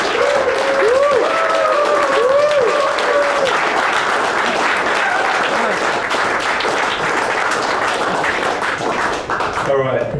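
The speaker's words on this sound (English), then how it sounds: "give a warm round of applause for Mikkel" A standing startup-event crowd applauds a founder, loud, dense clapping mixed with cheers and whoops early on, sustained for several seconds before tapering off.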